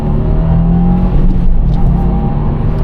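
A car accelerates hard in a straight line with one shift, its loud, close engine note rising steadily with no talking.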